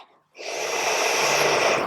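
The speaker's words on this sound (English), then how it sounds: "This time open your mouth and let it out with a ha sound, sticking your tongue out if you can." A yoga student's lion's breath: a forceful open-mouthed exhale with a breathy ha sound, starting after a brief pause and held steadily, loud and close, with no talk over it.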